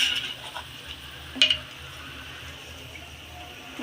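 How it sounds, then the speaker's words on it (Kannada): Garlic and gram fry in a pan with a low, steady sizzle, broken by a couple of sharp clinks of a spoon against the pan partway through. "ಬೆಳ್ಳುಳ್ಳಿ ಹಾಕ್ತಾ ಇದ್ದೀನಿ ನೋಡಿ ಫ್ರೆಂಡ್ಸ್ ಕಾಳು ಹಾಕಿದ್ದೀನಿ ಚೆನ್ನಾಗಿ ಫ್ರೈ ಆಗಬೇಕು"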